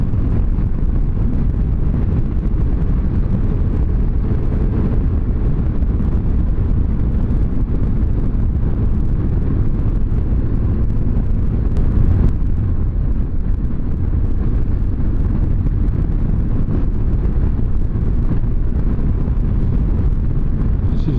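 Motorcycle ridden through a few tight bends on a twisty road with sweeping curves, its engine a steady, continuous roar smothered by heavy buffeting wind noise across the whole stretch, with no talking.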